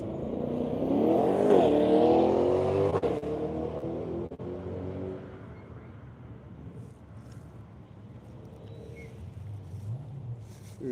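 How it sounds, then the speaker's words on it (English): A Michelin-sponsored Chevrolet Corvette E-Ray race car pulls away and accelerates, its engine rising in pitch and loudness before fading into the distance, with a commentator's voice over it. "The Michelin Corvette E-Ray next to go off."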